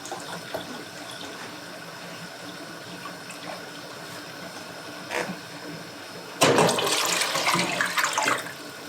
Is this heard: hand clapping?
no